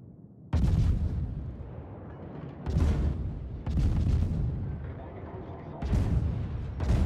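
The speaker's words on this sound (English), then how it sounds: "I got one more salvo out in a second." Heavy warship main-battery salvos boom out in a naval battle game, four loud deep blasts spaced a second or two apart, each trailing a long rumbling decay.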